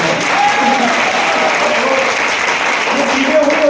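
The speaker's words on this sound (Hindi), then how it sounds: "वो ताली भी आपने मतलब बहुत ज्यादा बजाई यार" Sustained loud audience applause at a seminar, steady dense clapping from a large crowd that carries on evenly for several seconds, with faint voices underneath.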